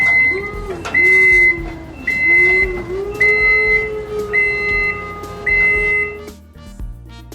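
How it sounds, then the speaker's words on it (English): A forklift's reverse alarm sounds a steady series of about six evenly spaced, sharp electronic beeps over a low, wavering engine hum, close and fairly loud. "Forklift."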